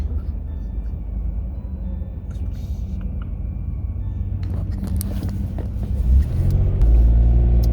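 A car drives along a snowy road, its low engine and tyre rumble steady inside the cabin, swelling louder toward the end as it accelerates.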